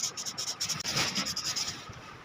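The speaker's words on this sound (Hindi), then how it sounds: "स्क्रू के ऊपर भी ऐसे रेगमाल लगा लेना ताकि बाबरी वगैरह हर जगह से ख़त्म हो जाए" Sandpaper rubs over a sewing machine shuttle screw to smooth off burrs, a close, quick back-and-forth scratching with a steady rhythm.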